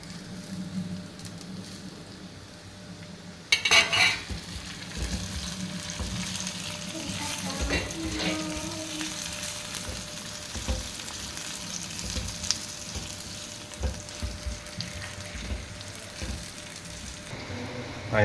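Green chillies and curry leaves frying in a pan of oil for a Kerala fish curry: a steady close sizzle and crackle that runs throughout, with a sharp burst as they hit the oil and occasional stirring scrapes.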